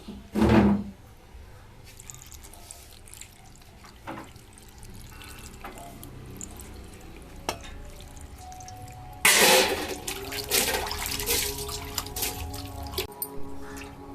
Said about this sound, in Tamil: பச்சை தண்ணி ஊற்றி அலசி எடுத்துக்கணும்